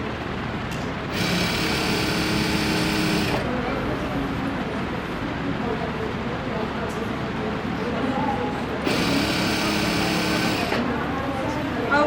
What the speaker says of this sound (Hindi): अब दूसरी साइड से भी यही सिलाई हम लगा लेते हैं